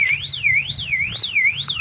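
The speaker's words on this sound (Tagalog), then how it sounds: "nag-ingay na yung ating" An electronic alarm sounds nearby, a loud, fast, repeating up-and-down whooping tone that continues without a break.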